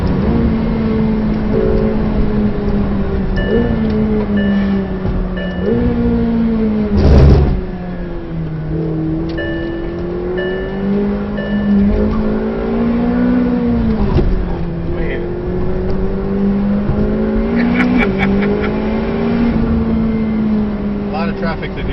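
McLaren 720S driving fast on the Nurburgring, its engine drone rising and falling steadily with shifts and throttle changes throughout, loud inside the cabin, with people talking over it.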